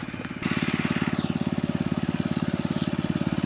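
An engine-driven water pump runs to irrigate sugarcane in a dry field, its motor chugging loud and close with a fast, even pulsing rhythm that steadies after a short start.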